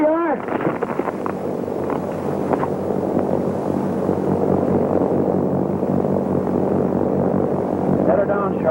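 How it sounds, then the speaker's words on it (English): A propeller airplane drones steadily overhead, a continuous low engine hum that stays loud throughout, with a voice shouting briefly at the start and again near the end. "Airplane!"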